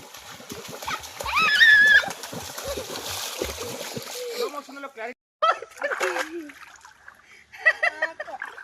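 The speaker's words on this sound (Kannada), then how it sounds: "ಯಾರದು ನೀರು ಹಾರಿಸ್ತಾ ಇರೋದು ನನ್ನ ಮೇಲೆ?" Children splashing water on each other during a playful water game, with bursts of splashing and sloshing under excited shouting and high-pitched squeals, the energetic commotion fading to scattered splashes and voices in the second half.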